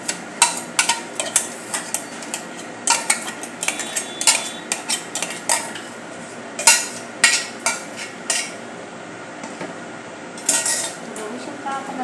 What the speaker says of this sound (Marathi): आता हे सर्व मसाला यामध्ये बटाट्यामध्ये मिक्स करून घेऊया.